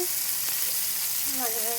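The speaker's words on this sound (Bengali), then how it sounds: "মাছটা এখন ভাজা বসিয়ে দিচ্ছি" Fish fries in hot oil with a steady, dense sizzle throughout, with a faint tonal sound near the end.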